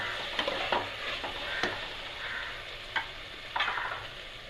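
Ginger garlic paste sautés in a pan for vegetable pulao, giving a steady close sizzle broken by several sharp scraping stir strokes.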